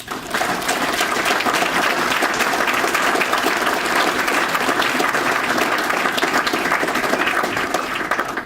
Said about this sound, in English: I just want you guys all to give Jerry Peach a round of applause.